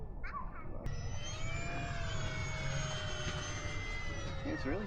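A radio-controlled Raptor Lite model airplane flies over an open field, its engine a steady high whine with shifting pitch that grows louder and sharper partway through, sustained and fairly close.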